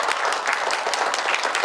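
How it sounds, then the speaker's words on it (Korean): Forum attendees applaud in a hall, with a brief burst of many hands clapping steadily and close, loud and unbroken from start to finish. "큰 박수 부탁드리겠습니다"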